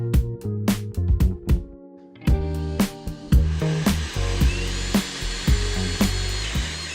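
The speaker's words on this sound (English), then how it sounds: "To drill the holes, use a Forstner bit slightly bigger than the insert." A Festool drill with a Forstner bit bores holes in wood. Several short, sharp bursts of whining drilling come close and loud, separated by brief pauses.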